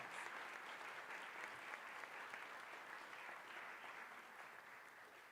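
An audience at an awards ceremony for African American environmental pioneers claps in sustained, dense applause that fades slightly toward the end, heard from a distance.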